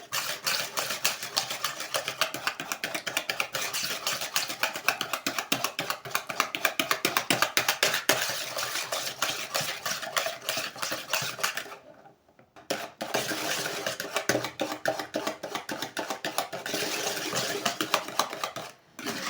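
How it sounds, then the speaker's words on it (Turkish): Rapid, continuous clicking of a whisk beating eggs and sugar by hand in a bowl, briefly pausing near the middle before resuming at the same brisk rhythm. "şimdi yumurtam ve şekerimi köpürene kadar çırpacağım 3-5 dakika"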